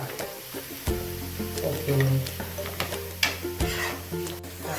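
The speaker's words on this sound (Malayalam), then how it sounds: "ഒന്നും കൂടെ പെട്ടെന്നൊന്ന് വഴറ്റി വരാൻ വേണ്ടിയിട്ട് തക്കാളി." Tomatoes and green chillies sauté in a pan for a Kerala-style shakshouka, with a moderate sizzle broken by stirring clanks and spoon knocks and a brief spoken word.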